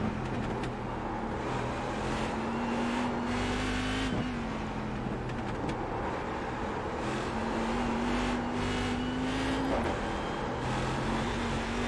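A big, heavy race car's engine drones continuously in the iRacing simulator, its pitch climbing and then dipping twice as the car slows.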